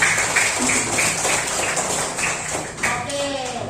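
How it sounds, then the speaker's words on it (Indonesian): A second-grade class of primary school children clapping their hands together in bursts of rhythmic claps, mixed with children's voices and an adult talking in the classroom. "Tepuk tangan kita semua."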